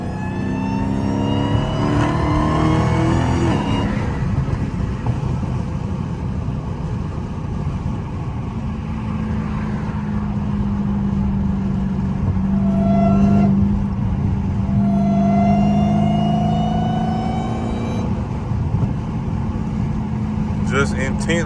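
A 900 hp Dodge Hellcat accelerates from the driver's seat, its supercharger whine rising and falling in long sweeping tones over engine roar, with people talking inside the car.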